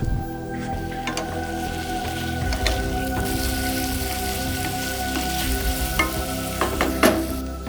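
Onion frying loudly and continuously in a sauté pan for Uzbek ugro-osh, a dense crackling sizzle like heavy rain, with occasional sharper pops and stirring scrapes close by.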